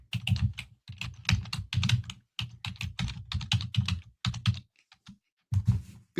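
Fast typing on a computer keyboard, close and clear, with steady bursts of keystrokes broken by short pauses and a few isolated taps near the end.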